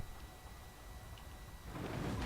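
The Endless Hail bow ability in The Elder Scrolls Online rains down as a dense, hissing patter of arrow impacts that swells louder toward the end, with no talk.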